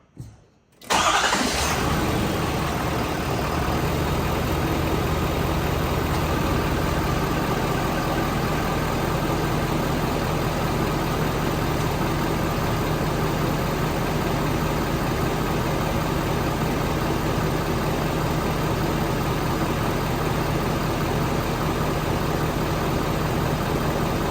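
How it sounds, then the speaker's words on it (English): A 2019 Ford Super Duty pickup with the 6.7 Power Stroke diesel cranks briefly and catches, then settles into a steady, loud, continuous diesel idle close by with no talking. "So now we're going to start the truck."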